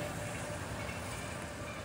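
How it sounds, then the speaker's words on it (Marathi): A Konkan Railway train rolls past on a rainy monsoon day near the old Mumbai–Goa highway, a steady rumbling clatter heard from a distance without any talk. "ती बघा कोकण रेल्वे, एक सेकंड दाखवतो तुम्हाला."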